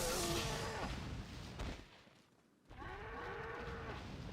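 Cattle moo in the Resident Evil 4 Wii Edition video game, two long, low moos separated by a short lull, set over a steady hum of game ambience with no speech.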